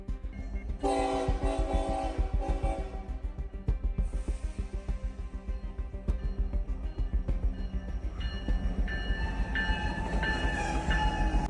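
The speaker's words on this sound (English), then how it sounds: "a train barrels past, horn blaring" A train rumbles past close by with a loud, sustained horn blaring in long blasts over the steady clatter of the wheels.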